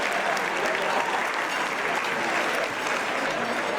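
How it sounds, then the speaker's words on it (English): A conference crowd applauding steadily, dense clapping filling the whole stretch without pause or voices. "give another round of applause for Tamara"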